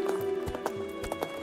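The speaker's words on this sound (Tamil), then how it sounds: "குதிரையில போறது நல்லா இருக்கு" Horse hooves clip-clopping in a steady rhythm while a horse is ridden, the footfalls close and distinct over a constant tonal hum, with no talking.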